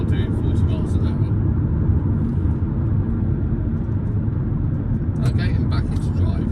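A 2008 Kia Carens automatic diesel rumbles steadily while driving at about 40 mph and downshifting, a continuous low engine and road drone with brief louder bursts near the start and end.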